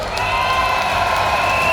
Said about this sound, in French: je veux une clameur et un tonnerre d'applaudissements pour tous les organisateurs et bénévoles